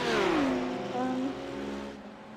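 BMW race car at Watkins Glen during a six-hour endurance race, engine droning loud and steady on the start-finish straight with a rising then falling pitch, heard from onboard or close by, alone without talk.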